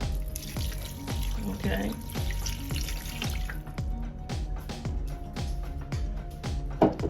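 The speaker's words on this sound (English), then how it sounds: "I am going to add in me some water." Water pours and splashes into a cooking pot holding smoked turkey wings, a steady running stream under music-like tones and a brief spoken word.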